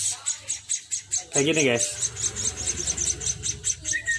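Sparrow chicks being hand-fed, chirping in rapid, rhythmic high peeps close by, with a brief louder burst of cheeping and someone speaking briefly over them.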